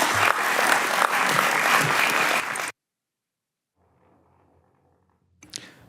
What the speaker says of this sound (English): Let's give Mr. Shaughnessy a big round of applause.